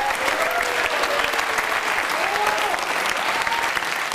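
An audience at the Reserve Cup 2009 competition event bursts into dense, sustained applause with cheering crowd noise, loud and continuous throughout.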